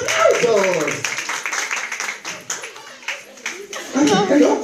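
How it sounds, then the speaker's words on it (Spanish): People clap hands in scattered bursts amid lively talk and excited voices nearby, with the clapping rising and falling between speech. "¡Oye, pero aplausos, aplausos!"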